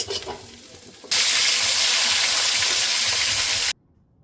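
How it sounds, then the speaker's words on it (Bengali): Loud, steady sizzle of spices frying in a pan for chicken curry, a dense hiss that bursts in suddenly after a quieter start and cuts off abruptly near the end. "মশলাটা আমি ভেজে নিচ্ছি সবকিছু"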